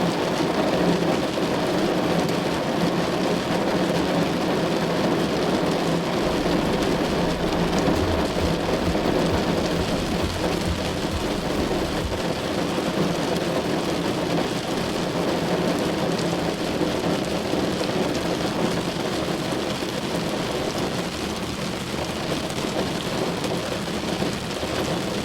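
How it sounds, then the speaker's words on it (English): Rain patters steadily on a car windshield, a dense continuous wash with low rumbling underneath, loud and unbroken for the whole stretch. "The rhythmic sound of rain on windshield"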